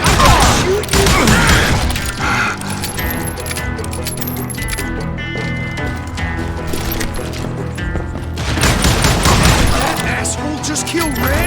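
Gunfire in the Western shooter game Call of Juarez: Gunslinger: dense, loud bursts of rapid shots at the start and again near the end, with a busier mix of game sound between them.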